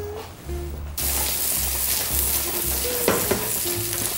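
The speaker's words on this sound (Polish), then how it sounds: "teraz idziemy smażyć na patelni z olejem i odrobiną" Loud, continuous sizzling of meatballs frying in hot oil with a little butter in a pan, with occasional stirring scrapes and pops near the end.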